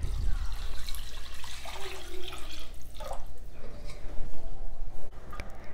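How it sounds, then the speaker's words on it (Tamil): Water is poured from a tumbler into a pot of rice for a lunch-box variety rice dish, a steady splashing and trickling stream lasting several seconds with small drips toward the end. "ஒரு டம்ளர் வாட்டர் ஆட் பண்ணுறேன்."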